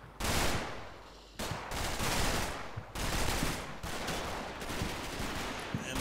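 Dense, sharp bursts of rifle and machine-gun fire crack and rattle nearly continuously in a World War II Normandy combat video game, loud and close, with no voices.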